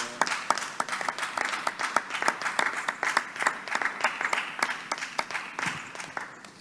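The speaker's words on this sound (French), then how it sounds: "On acclame le Seigneur." A church congregation applauds steadily through a French worship service, the claps dense and rhythmic with sharp individual hits standing out in a room-filling wash, no voices over them.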